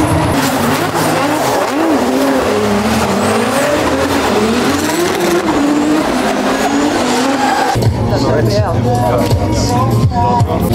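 Race cars driving on a racing track, engines roaring continuously with tire squeal and shifting pitch as cars pass, loud throughout with people talking over it.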